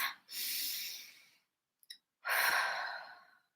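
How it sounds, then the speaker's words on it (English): A deep breath during an EFT tapping session for stress and anxiety: a long, airy inhale followed by a slow, audible exhale, close and fairly loud, with a brief small noise in the pause between. "go ahead and take a deep breath"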